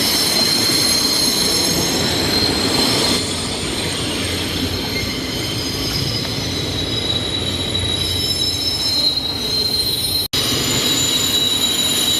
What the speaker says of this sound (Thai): เราเจอรถจากเอาสตอมที่ 4419 นะครับกำลังลากรถสินค้านะครับตู้คอนเทนเนอร์นะฮะ